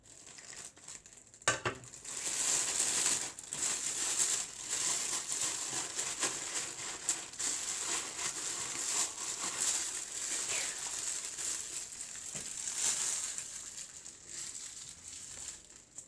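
A plastic bag for homemade tomato sauce being handled, with the air pressed out before sealing, giving a long stretch of steady crinkling and rustling close by with no voices.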